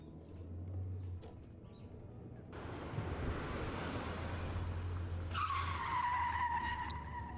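Tyres of a video game car screech in a long, rising skid that swells from a low engine rumble and a rushing, noisy drive into a loud, sustained squeal, with no voices.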